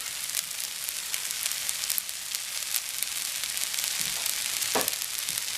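Island curry fried rice is stir-fried in a hot pan, giving a steady loud sizzle throughout with scattered crackles and a few scraping stirs of the spatula.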